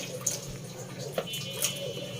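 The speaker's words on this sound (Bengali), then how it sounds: "এখন শুধু 1 হাতে ধুয়ে নিচ্ছি পরিষ্কার করে" Soft water sloshing and splashing as vegetables are rubbed and rinsed by hand, with a few light splashes standing out over a quiet background.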